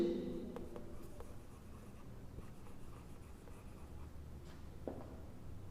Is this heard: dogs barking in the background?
no